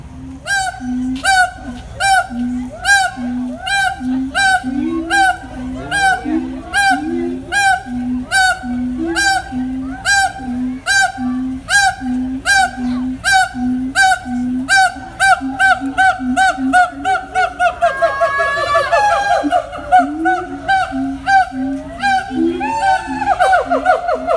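Zoo animals at Riverbanks Zoo in Columbia, South Carolina give loud, honking mating calls, repeated in a steady rapid series close by and continuing without pause.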